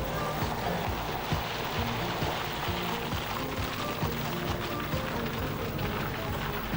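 A 23-foot Shark Cat racing catamaran powerboat's engine roars steadily alongside rushing water and spray, a constant loud wash with no pauses, during the 1985 Mercury Trophy race.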